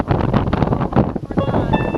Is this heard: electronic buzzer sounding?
no